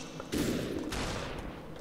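A sudden gunshot in the shooter game Superhot, a loud close thump-like blast with a second hit shortly after, set against a steady background of game noise.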